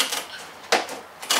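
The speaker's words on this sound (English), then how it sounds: "So I'll be using a pair of straight tin snips, and that gives a nice clean cut." Straight tin snips cut through FILON sheet in a few quick, crisp snaps, each a short bright crunch of the blades closing, heard up close with no talking.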